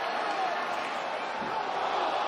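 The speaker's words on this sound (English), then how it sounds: "and the crowd loves it." A packed arena crowd at a UFC fight roars steadily, a dense, sustained wash of cheering that stays loud throughout, with a voice talking over it.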